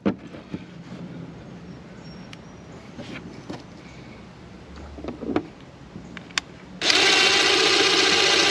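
A power drill fitted with a 7/32 or 7/64 bit bores into a truck bed while a 7-pin in-bed trailer connector is installed. Quiet handling clicks come first, then a loud steady drilling whir runs to the end.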